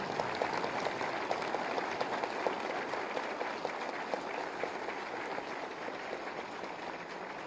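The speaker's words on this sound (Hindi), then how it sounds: "तालियों के गड़गड़ाहट से।" An audience at an official ceremony for appointment letters in Uttar Pradesh claps steadily, producing an even patter of applause at moderate distance and fairly low volume, with no voices over it.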